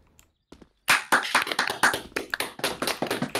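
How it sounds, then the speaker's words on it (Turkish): A group claps loudly and close by after a brief quiet, with quick irregular claps going on for a few seconds. "Alkış."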